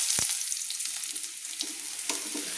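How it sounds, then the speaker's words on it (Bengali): Potatoes frying in hot oil give a steady, bright, close sizzle throughout, with a sharp knock near the start and a few faint stirring taps, and no talk. "তেলে ভেজে নেওয়ার জন্য আলুগুলো আমি তুলে নিলাম"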